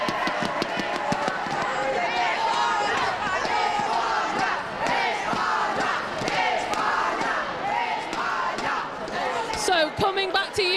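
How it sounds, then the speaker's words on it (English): Spanish spectators at the European Pickleball Championships roar and shout together in a loud, sustained crowd din, with whoops and cries rising over the noise and a few sharp bursts near the end. "I think we just want to hear a little bit from the Spanish crowd."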